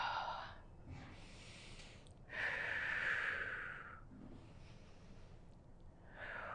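Several people breathe together during a break in a group exercise workout, with soft repeated breaths and one long, loud exhale in the middle, and no talking.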